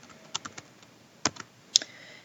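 Sparse, quiet keystrokes on a computer keyboard while a spreadsheet formula is entered, with a few isolated taps and a small cluster of clicks and no voices.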